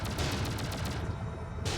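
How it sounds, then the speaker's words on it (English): Rapid video game gunfire from enemy legs shooting at the player, a dense continuous burst of shots that stays loud through the whole moment, briefly thinning before surging again. "I think the legs are shooting at me."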